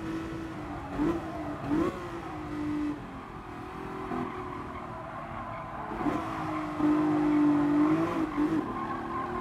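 A race car in Gran Turismo Sport revs hard and accelerates, engine tone climbing through gear shifts with brief tire squeals, loud and close with no talk over it.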